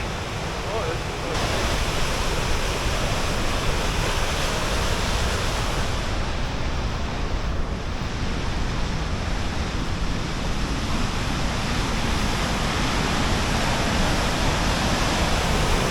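A waterfall on Coe Creek in British Columbia roars as a dense, unbroken rush of falling water, loud and close, holding steady from start to finish.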